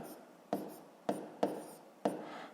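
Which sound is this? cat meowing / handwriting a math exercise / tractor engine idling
handwriting a math exercise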